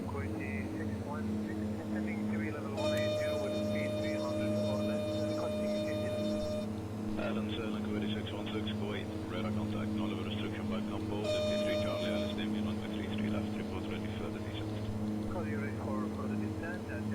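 Twin Otter airplane engines strain to climb at high altitude en route toward Mount Everest, a steady, loud cabin drone with layered low hum and brief whining tones rising over it.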